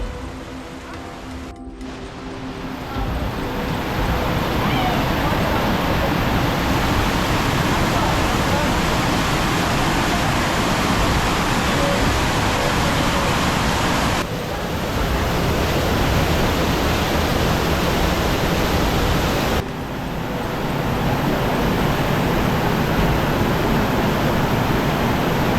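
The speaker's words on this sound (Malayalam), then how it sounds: "ഗുഹേൻ്റെ അകത്തുനിന്നാണ് വെള്ളം വരുന്നുള്ളത്. അപ്പോൾ ആ വെള്ളച്ചാട്ടം ഗുഹയുടെ അകത്തും കാണാൻ പറ്റും." Waterfall flowing out from inside a cave at a forest resort in Wayanad, a loud, continuous broadband roar heard up close, steady for the whole stretch with a few brief dips.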